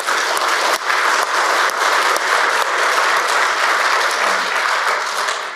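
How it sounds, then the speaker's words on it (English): An audience at a book launch symposium claps steadily for several seconds, a full even round of applause in a room. No voices break through. "can we all give them a round of applause?"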